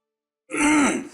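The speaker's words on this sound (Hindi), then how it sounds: "इसीलिए बिना वक्त आ जाती है खांसी" A single short, rough throaty cough or throat-clear after a moment of silence, close and fairly loud.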